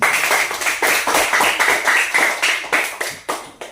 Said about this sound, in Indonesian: Baik, tepuk tangan buat